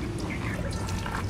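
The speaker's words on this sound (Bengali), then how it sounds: "আশটা ছাড়ানো হয়ে গেছে, এবার ধুয়ে নেবো পরিষ্কার করে" Cleaned, descaled hilsa fish being washed in water, with continuous splashing, dripping and pouring close by while someone talks briefly.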